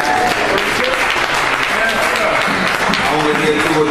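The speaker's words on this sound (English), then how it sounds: "I only get two or three of you clapping your hands" Hands clapping from a church congregation, a steady dense patter that sounds loud and near, with speech-like tones and voices mixed in throughout.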